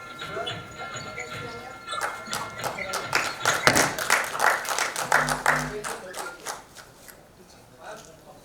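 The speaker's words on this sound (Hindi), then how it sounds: "राजेश दरी जी जैसे तमाम डॉक्टर्स के लिए हम सबको तालियां बजानी चाहिए" An audience at an awards ceremony applauds for doctors, a swelling burst of clapping that builds, peaks and then fades, with a voice speaking over it.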